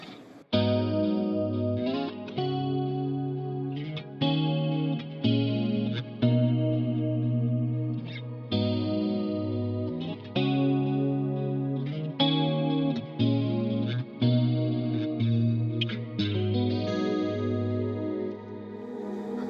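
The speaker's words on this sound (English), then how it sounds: "This is my ambient channel, so this is where the reverb switches to the Andromeda" Ambient electric guitar through a Fractal FM9 with Andromeda reverb, played as sustained, chorus-washed chords that swell and blend into one another in a lush, spacious pad, with no talking.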